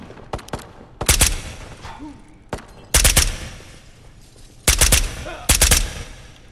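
Gun firing in the VR video game Ghosts of Tabor: several loud, sharp bursts of rapid shots separated by quieter gaps, each volley a tight cluster of cracks, with faint background sound between.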